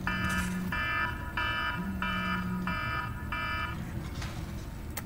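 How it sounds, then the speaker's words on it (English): Electronic alarm going off indoors, loud repeated bursts of bright beeping tones in an even rhythm, with a lower buzzing tone alongside and nobody talking. "That was my alarm."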